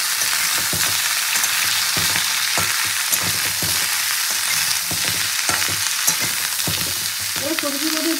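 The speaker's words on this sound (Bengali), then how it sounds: "ফোড়নটা ভালো করে ভেজে নিয়ে এবার এই সবজিগুলো দিয়ে দেবো।" Vegetables hiss and sizzle as they drop into hot oil after spices were tempered, with scraping stir sounds and occasional clatter against the pan, continuous and close; a short tonal squeal appears near the end.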